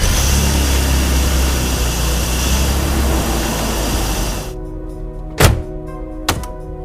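A BMW E46 fitted with a K&N intake runs with a loud, steady engine roar that abruptly cuts out, followed by near-silence and two distinct thunks. No one speaks.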